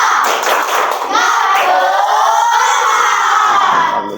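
A school class shouts the rhythmic tepuk semangat clapping chant together, children's voices loud and energetic with claps, a burst of chanting filling the whole moment.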